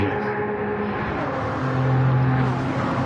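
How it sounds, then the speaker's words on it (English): Pack of race cars passing by, engines droning with sustained tonal whine that shifts pitch as the cars sweep past, loud and continuous without talk. "And these cars, the pack of cars that's coming"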